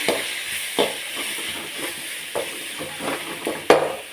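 Spices and rock salt sauté in a kadai for a prawn gravy, a soft continuous sizzle broken by irregular scraping stirs of a spoon against the pan, one sharper clank near the end.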